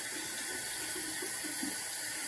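Water runs steadily from a tap into a sink, a continuous soft rushing hiss at even level with no talk over it, poured out in small amounts for mixing a coffee face scrub.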